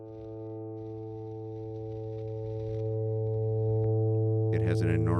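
A sustained electric guitar note rings through a high-gain Fuzzolo fuzz pedal, holding steady with a growing hiss and a rush of noise, then a fresh, brighter attack near the end.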